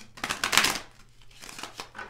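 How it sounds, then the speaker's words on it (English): Tarot cards shuffled by hand, a burst of riffling and flicking near the start followed by quieter shuffling and a few more brushy flicks, close and fairly soft with no talk. "let's go ahead and shuffle for a second"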